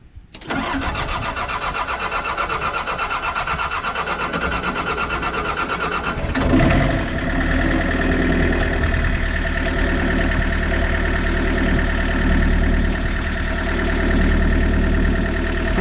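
An excavator's diesel engine cranks briefly, catches and settles into a steady, loud, close idle with a continuous low rumble, with no talking over it.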